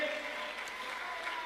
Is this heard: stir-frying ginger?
no